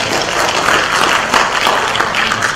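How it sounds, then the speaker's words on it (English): Applause for a university faculty at an Indonesian sustainability awards ceremony, dense, steady clapping from a large audience throughout. "Let's give them a big applause."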